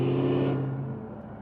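Cammed Dodge Hellcat 411 V8 with its exhaust valves closed, a muffled steady engine drone and hum that fades gradually over a second and a half, with no voices.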